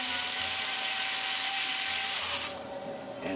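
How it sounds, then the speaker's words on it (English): A small drill whirs steadily at high pitch for about two and a half seconds drilling a small hole in a ping pong ball, then cuts out abruptly, leaving a faint hum. "Drill a small hole"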